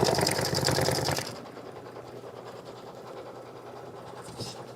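An embroidery machine stitches out a design with a fast rhythmic mechanical chatter that is loud for about a second, then drops to a quieter steady hum, with no talk.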